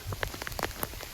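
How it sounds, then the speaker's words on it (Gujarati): Monsoon rain patters down in scattered, irregular drops that land close by, fairly quiet, with no voices. "વરસાદ વધી ગયો,"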